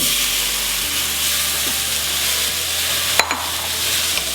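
Roughly chopped tomatoes hitting a hot frying pan with garlic for a Cambodian fried fish sauce, a loud continuous sizzle and hiss close up, with a brief clatter of a utensil partway through.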